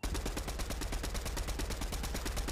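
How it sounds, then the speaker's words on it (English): Gunfire in the Fortnite video game rattles out as a steady, rapid stream of close, loud shots, evenly spaced like automatic fire and running without a break. "The hell are they shooting at?"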